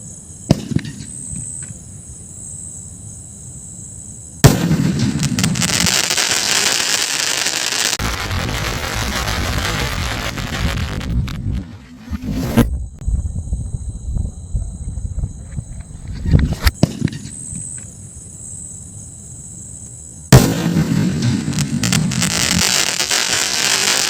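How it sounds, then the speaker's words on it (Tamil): Vinayaga Fireworks Sony World War skyshot firing from Sivakasi, a series of loud crackling bursts in long sustained blocks separated by brief quiet gaps, outdoors and close, with no talk. "இப்போ நம்ம இந்த ஸ்கைஷாட்டை வெடிச்சு பார்த்துருவோம்."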